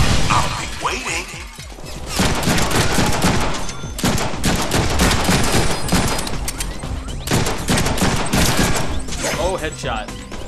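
Dense, loud volleys of gunfire crackle nonstop in the Deadpool video game, layered shots and crashes blending together with voices and game effects on top.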